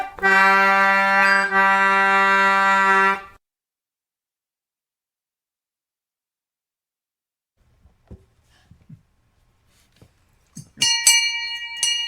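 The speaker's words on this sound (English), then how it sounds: "There was a ship's bell in the other room, too." A ship's bell rings loudly and steadily for about three seconds, then stops, followed by near silence with faint rustling and a few brief bright metallic sounds near the end.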